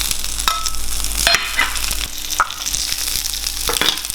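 Deseeded red pepper chargrilling in olive oil on a hot griddle, a loud steady sizzle with intermittent sharp crackles and pops, no speech.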